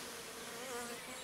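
Dense, steady hum of many honeybees buzzing close by at an open Dadant divisible beehive during an inspection, continuous with no talk.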